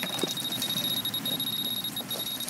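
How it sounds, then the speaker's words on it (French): A radiation contamination detector at Fukushima gives a continuous high electronic beeping tone, steady and moderately loud over faint background noise, with brief dips near the end. "quand on appuie sur notre détecteur, eh bien, ça, dès qu'on l'allume, ça bip immédiatement"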